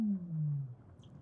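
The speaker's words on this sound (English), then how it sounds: "They're actually the calls of Weddell seals." A single long, descending underwater Weddell seal call slides downward in pitch, eerie and electronic-sounding, followed by a faint chirp, beneath Antarctic ice.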